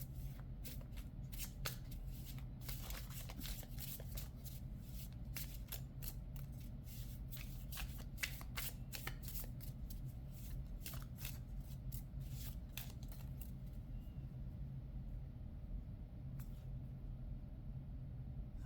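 Tarot deck being shuffled by hand at close range, a long run of quick, soft riffling card flicks over a low steady room hum, which thins out near the end.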